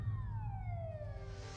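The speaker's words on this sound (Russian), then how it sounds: "они сирену воздушной тревоги включили" An air raid siren wails in a long, steady falling tone over a low rumble of background noise, heard alone without talk.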